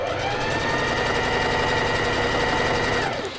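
A sewing machine stitches fabric forward in one steady, rapid mechanical chatter for about three seconds, close and clear with no voices.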